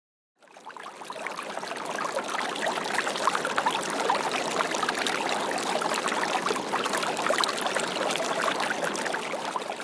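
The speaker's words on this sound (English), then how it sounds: "Nisqually River, Washington State." The Nisqually River in Washington State rushes past in a constant, close, full-bodied flow of water that begins abruptly and holds steady throughout.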